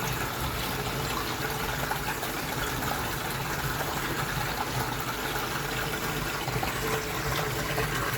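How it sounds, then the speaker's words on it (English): Steady broadband wash of falling water, loud and continuous without a break, like rain coming down close by with a constant spattering hiss. "So it's just starting to rain, as you can probably tell"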